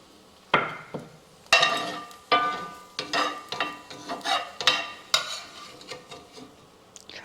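A utensil scrapes browned onions out of a frying pan in sharp, repeated metallic strokes, close and loud, with short pauses between each scrape.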